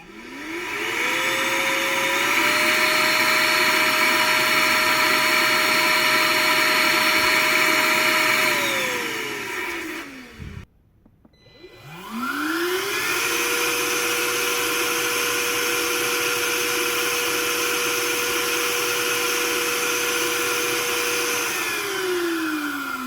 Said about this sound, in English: This really simple contraption will help me to measure the maximum vacuum each vacuum cleaner can reach.